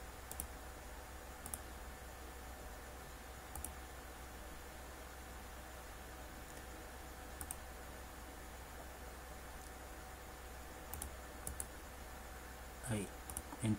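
Sparse, faint computer mouse clicks while drawing and joining building outlines in AutoCAD, a few isolated taps over a steady low background hiss.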